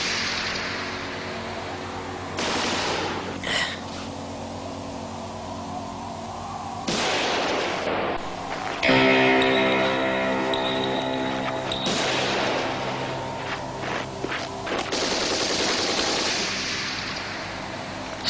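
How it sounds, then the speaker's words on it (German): Battle sounds from a 1978 war film: gunfire, artillery and machine-gun fire. Booming blasts and rumbling roars rise and fall through the scene, with long stretches of dense, heavy noise. "Schießen."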